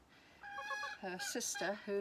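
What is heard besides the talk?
chicken clucking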